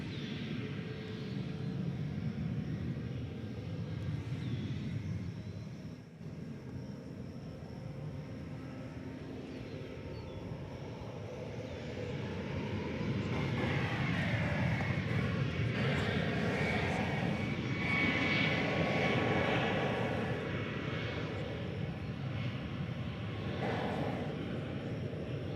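An Alaska Airlines jet takes off from runway 18 left at DFW Airport, a steady broadband engine roar that swells and grows louder midway through as the aircraft accelerates down the runway, with no talk over it.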